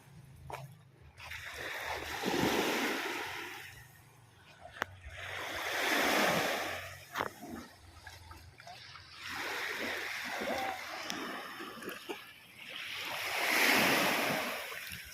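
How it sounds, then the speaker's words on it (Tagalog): Strong sea waves surge and crash in repeated swells, with wind buffeting the microphone and a few sharp splashes between rolling roars. "Malakas ang alon mga kabayan."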